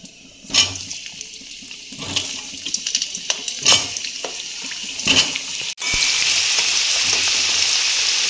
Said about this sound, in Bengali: তেল গরম হয়ে গেছে, আলুটা এবার আমি ভেজে নেব।